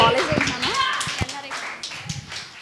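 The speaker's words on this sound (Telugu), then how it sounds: "క్లాప్స్ కొట్టి ఎంకరేజ్ చేయండి." An audience at a college student event at NRI College, Cherukupalli claps to encourage a singer. Sharp, scattered claps mix with nearby voices and chatter.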